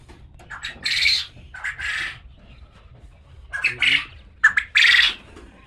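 Farm birds at a poultry farm squawk nearby in short, loud bursts, roughly five harsh calls scattered over a few seconds with quiet gaps between them.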